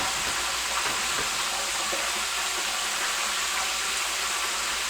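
A pot bubbles hard on a home kitchen stove while cooking maple syrup garlic chicken wings, a loud, dense, continuous roiling hiss and gurgle filling the room.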